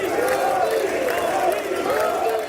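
Lawmakers in the US House chamber raising a crowd roar, with a dense wash of cheering and rhythmic chanted voices rising and falling, loud and close, while clapping is hard to pick out beneath the voices.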